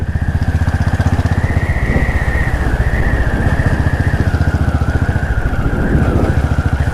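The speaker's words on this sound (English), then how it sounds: "You can ride this motorcycle at the highest gear all day long," Royal Enfield Classic 500 Desert Storm single-cylinder engine pulling steadily in fifth gear at about 40 km/h, a close, loud, rapid thumping beat with a faintly rising and falling tone and no talking.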